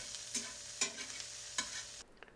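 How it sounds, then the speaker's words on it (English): Corn sautéing in butter with seasoning in a pan, stirred in a few sharp scraping strokes over a steady close sizzle that cuts off near the end. "I'm going to kind of let it saute and blacken up a little bit"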